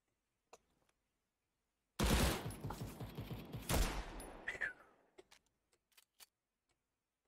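Desert Eagle pistol fire in the Krunker shooter game bursts in as a rapid, loud volley of shots over a couple of seconds, tailing off into scattered clicks and faint ticks before falling quiet.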